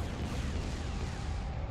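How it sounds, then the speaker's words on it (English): Explosions from space combat in Star Wars: Empire at War with the Enhanced Campaigns mod, a steady, dense rumble of distant booms and blasts sustained throughout without voices. "I think that explosion means I hit it."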